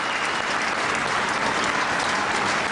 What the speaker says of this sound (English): round of applause from the Manly fans here, as you would expect